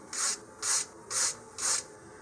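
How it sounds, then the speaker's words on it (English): Four short, even scraping strokes of a sanding block over a wooden model rocket fin, rubbing along the grain, close and fairly quiet. "here I'm just going to sand with the wood grain."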